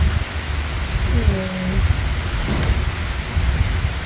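Heavy typhoon rain pours steadily outside a house, a dense continuous hiss with a low rumbling undertone and a brief faint tonal sound partway through.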